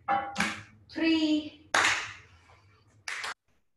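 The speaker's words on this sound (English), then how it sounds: "And we're going to clap this time." A single person claps during an online Pilates class: a few sharp, close hand claps land between spoken counts, with the voice carrying through the clip.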